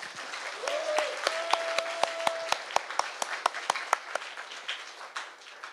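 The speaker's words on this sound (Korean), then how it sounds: "동의하신 박수 한번 해주세요." A modest audience in a meeting hall at a Seoul political assembly claps in agreement. Distinct, fairly regular hand claps ring out close together, with a faint tone early on, then slowly thin out.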